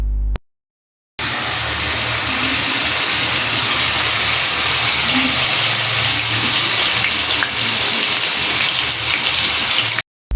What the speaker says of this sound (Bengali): এবার এই পর্যায়ে চুলার তাপটা লো টু মিডিয়ামের মাঝামাঝিতে রেখে কিছুক্ষণ সময় নিয়ে এই আদা আর রসুন পেস্টটা নেড়েচেড়ে ভেজে নিতে হবে।